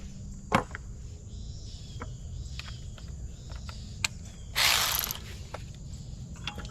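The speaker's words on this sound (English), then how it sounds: "So we'll go ahead and loose those 10mm." A ratchet clicks in short bursts while loosening 10mm bolts on a Honda Accord during timing belt work, with sparse sharp ticks, a brief louder rasp and a quiet background hum.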